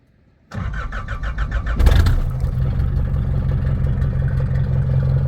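An old Nissan Navara D21 engine cranks with rapid rhythmic starter pulses, then catches and settles into a loud, steady rough idle close by.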